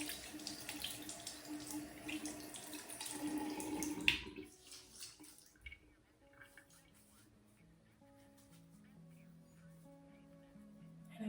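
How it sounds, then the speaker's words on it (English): A tap runs into a sink to wet a small makeup sponge, a steady close splashing stream for about four seconds, then stopping and leaving faint drips and handling noises. "then I take a little sponge and I wet it"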